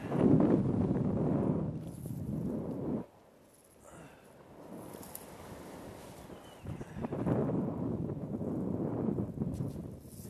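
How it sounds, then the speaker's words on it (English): Wind gusts on open water roar and buffet the microphone in loud, rushing waves, easing into a quieter lull midway before building again. "Some gust fronts coming in."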